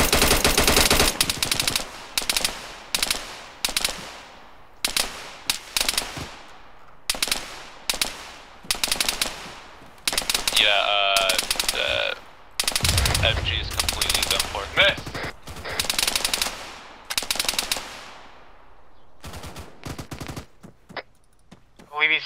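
Intense automatic gunfire in an ArmA 3 convoy ambush, long rattling bursts broken by short pauses, loud and close, with a few brief higher-pitched ringing tones mixed in.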